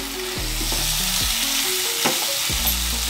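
Boiled banana flower stir-fried with prawns and spices in a pan, a steady loud sizzle with repeated scraping strokes of a spatula at a regular rhythm, no voices.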